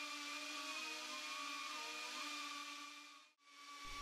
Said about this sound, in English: There's also some fluctuation in fan speed, and that seems to be the EDF blades coming loose